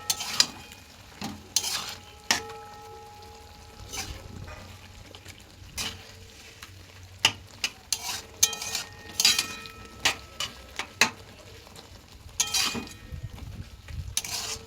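Kohlrabi mixed with poppy seed paste is stirred in a pan, with irregular scraping and clattering strokes of a spoon over a faint low sizzle, loud and close with brief pauses.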